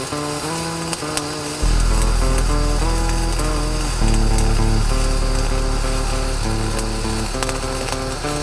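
MIG flux-core welding on a pipe in the 6G position: a loud, steady electric buzz kicks in after a quieter start and holds a continuous droning crackle, with small shifts in tone as the arc moves along the joint.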